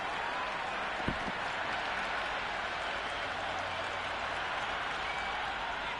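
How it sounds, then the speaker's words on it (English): Virtual stadium crowd in a cricket video game, Islamabad United versus Faisalabad Wolves in the e-PSL, roaring and applauding steadily after a boundary shot, a dense, constant wash of cheering with one sharp knock near the start. "The crowd are really getting quite raucous."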